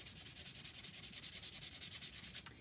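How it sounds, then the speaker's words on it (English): Sandpaper rubbing back over paper during a mixed-media image transfer, heard as a steady run of quick, even back-and-forth scrubbing strokes, close and alone with no talking. "You can actually come back with some sandpaper and just sandpaper back some areas as well."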